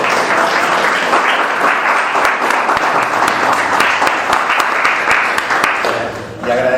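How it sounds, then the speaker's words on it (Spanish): Audience applause in honour of a guest at a talk on Argentina's 1970s history, a dense continuous clapping that stays loud and even before fading near the end. "a darle un aplauso a Mario"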